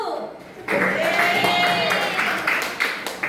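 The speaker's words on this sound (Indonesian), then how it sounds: "Benar, tepuk tangan dulu" Classroom applause from students, a short burst of hand clapping that starts abruptly and carries on with voices mixed in, fairly loud and close.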